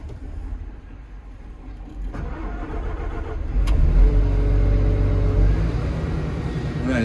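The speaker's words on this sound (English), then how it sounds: "the machine starts and runs" A machine with a replaced joystick and permanent engine warnings, which starts but won't move, cranks and fires up, then settles into a loud, steady, close engine drone.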